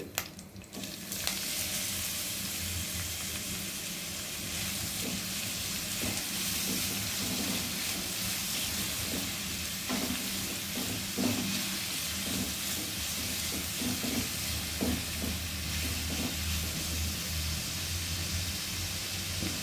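Onions and curry leaves fry in a hot pan with a loud, continuous sizzle. Occasional stirring clicks sound through it, and no one speaks.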